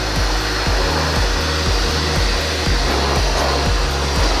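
A blow dryer runs loud and close, drying a freshly washed car engine with a steady, high whirring roar and a faint rhythmic pulsing underneath.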